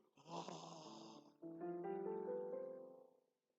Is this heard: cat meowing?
no